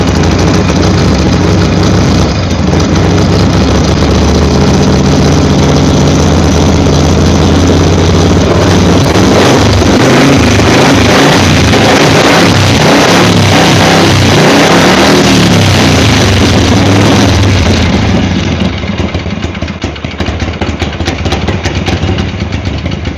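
A motorcycle engine at a custom motorcycle shop runs loud and steady, with the throttle blipped and revved repeatedly over a continuous idle, close up and with no talk.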